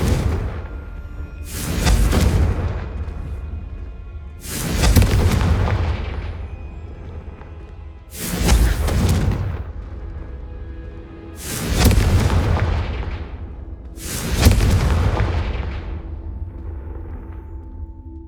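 Confringo fire spells in Hogwarts Legacy burst one after another, five heavy booming explosions spaced a few seconds apart, each with a rumbling tail under a low steady game backdrop.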